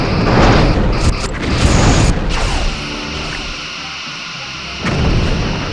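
Loud booming blasts of torpedoes exploding in the space combat game Star Trek: Bridge Commander, a rumbling burst up front, another near the two-second mark and a fresh impact rumble near the end, with no talk.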